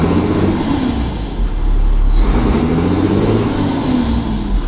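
Truck engine accelerating on a cold 20-degree day, a close diesel rumble rising and falling through two brief revs with a whining tone overhead, no talk.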